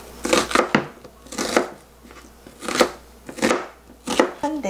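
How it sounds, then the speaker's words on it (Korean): A knife chops potatoes and carrots into small cubes for braised soy-glazed potatoes, about nine crisp, fairly loud board strikes in irregular pairs and bursts, close up with no talking. "애들 먹는 거니까 조금 약간 깍둑 모양으로 좀 작게 썰어줍니다."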